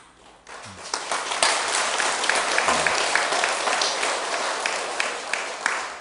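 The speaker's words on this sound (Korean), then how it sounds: "공연히 박수치지 마시오." Listeners at a Buddhist dharma talk break into applause. The clapping starts after a brief quiet opening, then turns dense and sustained at moderate loudness through to the end.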